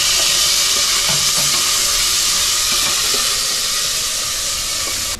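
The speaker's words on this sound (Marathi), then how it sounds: "एक मिनिट झालाय, टोमॅटो चांगला फ्राय झालाय बघा." Onion and chopped tomato fry in a pan for misal, giving a loud, unbroken sizzling hiss with faint clinks and stirring underneath.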